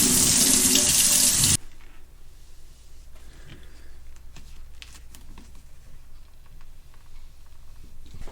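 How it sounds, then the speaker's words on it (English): A freeze dryer part is held under a running tap of cool water. The loud splashing stream cuts off after a moment, leaving quieter dripping, handling and rustling sounds. "you're going to want to take and run this under cool water"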